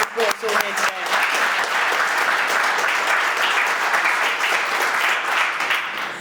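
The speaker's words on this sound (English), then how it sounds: "can I just take a moment, please, to have a huge round of applause for the Central South team" Conference audience giving a big round of applause for a regional team, a few early voices and claps swelling into dense, sustained crowd clapping that tapers off at the end.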